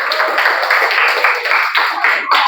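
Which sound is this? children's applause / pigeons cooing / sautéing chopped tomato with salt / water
children's applause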